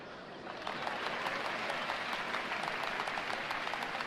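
A crowd applauding at a dawn ceremony, dense sustained clapping that swells within the first half second and stays loud and even to the end.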